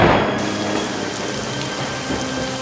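Steady rain falls in a dense, continuous hiss with a faint ticking texture, even and unbroken throughout, with no voices.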